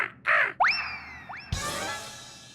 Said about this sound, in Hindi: ये तो कौवा है।